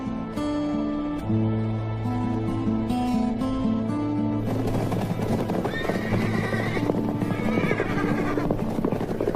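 Stallions neigh and whinny in an African desert over a dense, continuous background, with hooves clopping and a busy outdoor ambience throughout.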